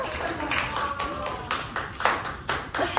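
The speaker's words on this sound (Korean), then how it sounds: "박수 한번 쳐주세요." A small audience at a book launch celebration claps in a scattered round of sharp, close hand claps, with some chatter mixed in.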